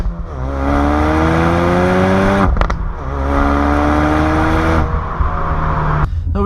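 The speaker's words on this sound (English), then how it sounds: "when you do put it in sport mode, you get some pops and cracks" A 2016 Ford Focus RS in sport mode revs hard through rising engine pitch sweeps, with sharp exhaust cracks and pops between gear changes, loud and close.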